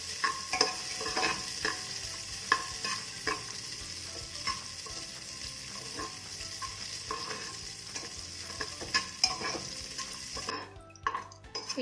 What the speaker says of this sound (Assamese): অলপমান সময় অলপ ৰঙা হোৱাকৈ মই ফ্ৰাই কৰি লৈছোঁ